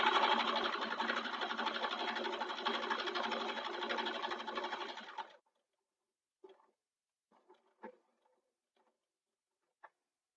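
A sewing machine runs in one steady, close, buzzing burst while stitching the bottom of a fabric sling bag, then stops, leaving only a few faint clicks and handling taps.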